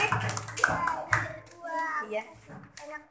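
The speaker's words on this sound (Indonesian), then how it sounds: "Tepuk tangan." Schoolchildren in a classroom clap together in short bursts of applause, mixed with children's voices and an adult speaking.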